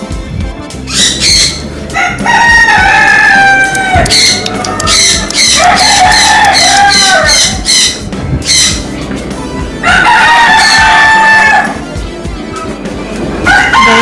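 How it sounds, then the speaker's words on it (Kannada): Loud chickens or roosters squawk and crow in repeated bursts close by at a large farm house in Belthangady taluk, Karnataka, several calls overlapping, with brief pauses between outbursts. "ಇಲ್ಲಿ ನೋಡಿ ಬರ್ಡ್ ಉಂಟು"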